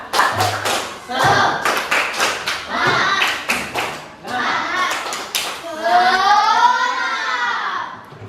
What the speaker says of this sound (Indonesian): Oke, biar semangat lagi, tepuk semangat dulu.